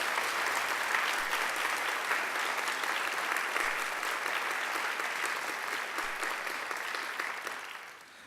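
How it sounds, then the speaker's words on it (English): Graduation ceremony audience in a courtyard giving a long, dense round of applause for academic staff, loud and even before gradually thinning out toward the end. "I'm sure you'd like to give them a big round of applause too"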